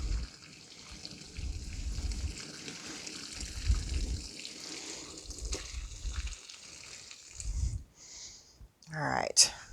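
Chicken broth pours and splashes through a colander into a batter bowl, a steady liquid gush that starts and stops, with a person talking over it and a brief clatter near the end.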